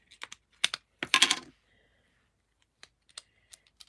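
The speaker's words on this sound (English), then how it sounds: "I think this tape runner is wound upside down" A handheld adhesive tape runner used for paper crafting clicks and rattles up close: a dense cluster of sharp plastic clicks early on, then a few scattered, fainter ticks after a pause, with no talking.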